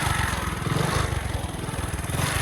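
A motorcycle engine chugs in a steady, pulsing idle close by as the bike is turned around, the low rhythmic throb holding for a couple of seconds without talk.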